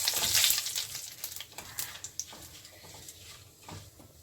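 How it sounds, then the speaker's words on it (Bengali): Black cumin seeds and two bay leaves hit hot oil, a brief burst of bright sizzling up close that settles into quieter crackles and small pops. "এখন এখানে আমি এই যে কালো জিরা ফোড়ন দিলাম, আর দিলাম দুটো তেজপাতা"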